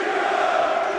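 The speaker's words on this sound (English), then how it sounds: "Picks up the Freeman chant." A UFC 38 arena crowd chants fighter Ian Freeman's name during his bout with Frank Mir, a steady, sustained, fairly loud mass of voices with no break across the moment.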